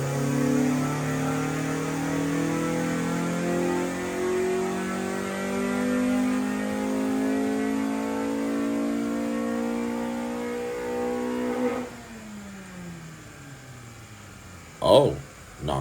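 A Honda D15B SOHC engine on a dyno, running on the low cam only without VTEC, holds a steady harmonic engine drone that climbs in pitch for about twelve seconds. It then cuts off, leaving a lower hum and a couple of sharp knocks.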